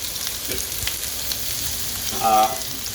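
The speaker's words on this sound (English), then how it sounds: "Our pan's quite hot already, and I'm going to add our onions to it." Onions sizzling in a hot pan with about a tablespoon of olive oil for chicken cacciatore, a steady close crackling hiss with a short louder burst near the end.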